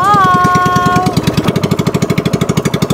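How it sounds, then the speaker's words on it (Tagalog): A boat engine starting up on high water among nipa palms: loud, close, rapid chugging pulses in a steady rhythm, with a brief whistling tone over the first second. "papaandarin na ni Francis yung makina"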